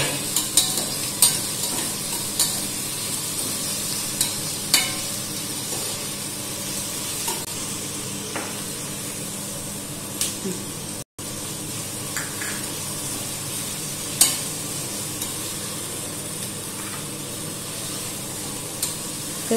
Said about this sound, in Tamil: ஆனியனை போட்டு ஃபுல்லாக நல்லா வணக்கிக்கலாம்